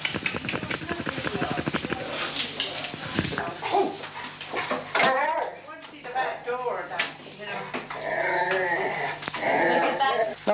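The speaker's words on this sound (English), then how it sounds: "He's doing terrible barking." A dog barks and whimpers repeatedly at close range in a home, sharp bursts and growly yelps coming in quick runs while people talk over and between them.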